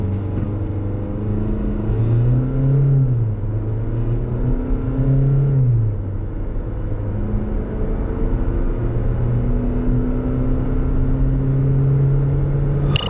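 A 2018 Chevrolet Equinox 1.6 diesel AWD accelerates hard from a standstill, its engine note climbing through the gears with loud rising drones and brief dips at each shift, continuous and close, with no talking.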